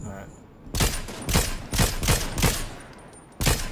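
Gunfire in Fortnite: a rapid string of loud, close shots in regular bursts, a pause, then one more shot, standing out clearly.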